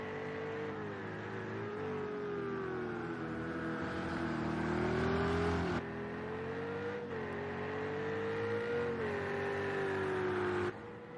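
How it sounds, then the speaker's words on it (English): A Ferrari GTE race car lapping the Circuit of the Americas, a loud sustained engine whine rising and falling through gear shifts, heard steadily from close by without any voices. "as we come down to complete lap number 16, the Ferrari is now under pressure"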